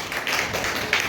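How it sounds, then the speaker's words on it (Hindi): A class of children claps together for a classmate, a steady, dense patter of small hands with no talk over it. "अंश के लिए 2000 तालियां बजाओ।"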